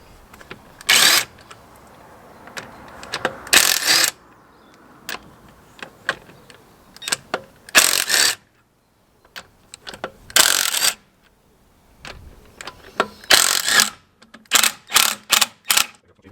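Car wheels come off as wheel nuts are undone on a stud-and-nut conversion, heard as about a dozen loud, close, short power-tool bursts separated by quiet gaps and small clanks.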